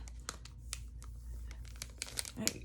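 Paper card edge being trimmed even, faint close crinkling and crisp cutting snips in irregular bursts, quiet throughout.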